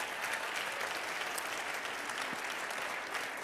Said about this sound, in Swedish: så ge dem en riktigt, riktigt varm applåd